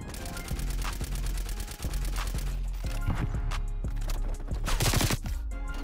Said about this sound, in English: This gun is so strong, it just shoots too slow.